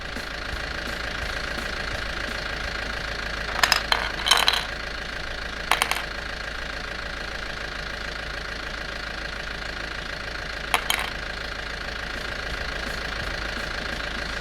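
A cartoon tractor idles with a steady, knocking engine rumble, broken by a few short clanking bursts near the start and once more later.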